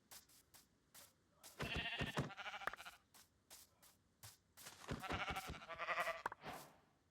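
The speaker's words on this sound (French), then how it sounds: "Oh, 2 moutons." Two Minecraft sheep bleat in short, wavering bursts, a few separate bleats spaced over several seconds against a quiet game background.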